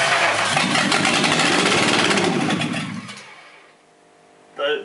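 A Volkswagen Corrado engine revs loudly for a few seconds, then falls away as the throttle closes and winds down to near quiet, with a brief sound at the very end.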